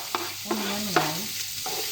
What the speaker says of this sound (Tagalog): Hintayin natin na magkakulay ng onion natin guys.